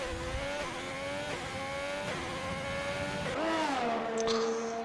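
A Ferrari Formula 1 car in an F1 racing game, on the track at Belgium during qualifying, holds a loud, high-revving engine whine that climbs through gears with brief dips at each shift, steady and close throughout.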